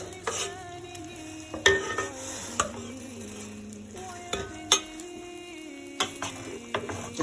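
Rice noodles being mixed with sauce in a pan, with scraping and clacking utensil strokes at irregular intervals against a quiet background.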